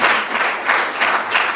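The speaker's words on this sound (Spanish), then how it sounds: "¿Por qué no le da un fuerte aplauso a Cristo" A church congregation gives a loud round of applause during a Sunday service. The clapping is dense and steady, filling the whole short moment.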